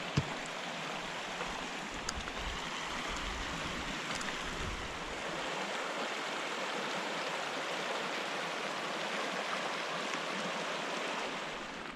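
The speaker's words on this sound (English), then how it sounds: "Bunch of water flowing through here" Steady rushing and gurgling of water flowing through a mountain meadow in Inyo National Forest, continuous and fairly close, with no voices.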